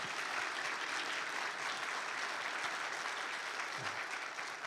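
A church congregation at a Sunday worship service bursts into dense, sustained applause for the fathers, a steady wash of many hands clapping evenly throughout with no voices rising above it.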